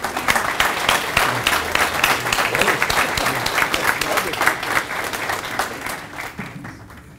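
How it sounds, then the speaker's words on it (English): A crowd at a Veterans Day ceremony at a VFW in Hays, Kansas, breaks into steady, full applause for honorees, with dense clapping throughout that tapers off toward the end. "let's give Don and Sergeant Major Wing a great round of applause again"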